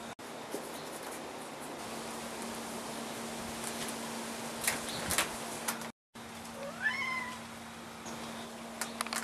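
A young kitten meows in a few short, high cries near the end, close by, over a steady low hum and faint background noise, with a brief dropout midway.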